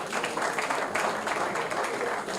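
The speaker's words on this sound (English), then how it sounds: "Please, a round of applause again." Sustained applause from a large crowd at a Nigerian political gathering, many hands clapping continuously with a busy, roomy sound and some voices mixed in.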